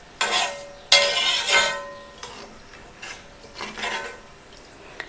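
A homemade hair oil mixture is stirred in a pot, giving several short scraping and swishing strokes at close range, spaced irregularly, with quiet pauses between them and no talk.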